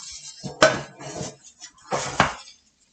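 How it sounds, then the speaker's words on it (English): Vegan loaf mixture is scraped and pressed into a big pan, with a few close clanks and scrapes of a utensil against metal in two short bursts. "I'm now putting it in the pan."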